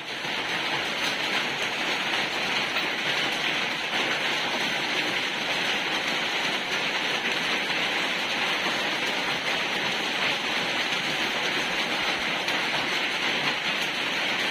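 Rain falls in a steady, dense hiss of constant even intensity, heard close with no voices over it.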